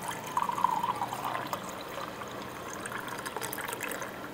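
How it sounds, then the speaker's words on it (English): Water runs steadily from a tap into a container, a soft continuous trickle and pour filling it up, fairly quiet and close. "So we are getting water right now."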